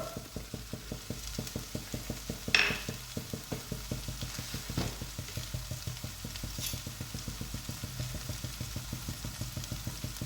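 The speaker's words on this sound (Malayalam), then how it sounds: "ഇനി ഇതെല്ലാം കൂടെ നന്നായിട്ടൊന്ന് കളർ മാറുന്ന വരെ നമുക്കൊന്ന് വഴറ്റാം" Soya chunk curry being sautéed in a pan with turmeric, Kashmiri chilli powder and pepper powder, giving a steady rhythmic scrape-and-sizzle of stirring that runs close and continuous throughout, with one brief louder clatter early on.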